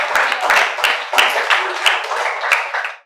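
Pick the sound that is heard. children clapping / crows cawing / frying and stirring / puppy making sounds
children clapping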